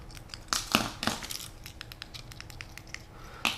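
A small Ziploc plastic bag holding a Camaro exhaust control module and remotes crinkles and rustles while being handled, with a few sharper crackling bursts among quieter rustling, close and moderately loud.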